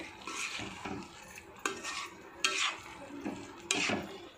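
Gram flour being stirred into a bottle gourd peel curry in a pan, with soft scraping and a few sharp ladle knocks against the pot at irregular intervals, close and fairly quiet.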